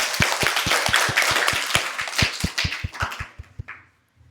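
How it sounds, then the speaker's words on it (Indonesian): Audience applause for the participants at a children's preaching contest, a few claps in a sharp, regular beat joined by a busier spread of hands, thinning out and ending in quiet near the close. "Beri tepuk tangan meriah kepada para peserta."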